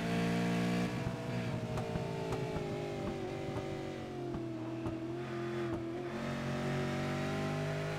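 Race car engines at Canadian Tire Motorsport Park during a MIRL road racing event, a loud, sustained multi-engine roar with steady revving and rising, shifting pitch throughout, close and continuous with no talk.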